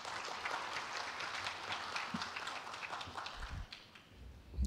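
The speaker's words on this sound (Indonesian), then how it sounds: "Boleh tepuk tangan untuk FK" An audience at an open university session on the rector's annual accountability report claps in a fairly quiet, distant patter of many hands that continues for several seconds.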